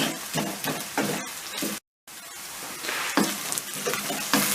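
Steady crackling sizzle of vegetables sautéing in a pan for barbunya pilaki, with occasional stirring scrapes and a brief silent gap midway.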